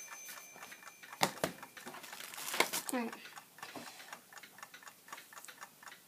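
An old wind-up alarm clock ticks in a steady, close rhythm, with a few louder clicks from handling and a brief spoken word over it.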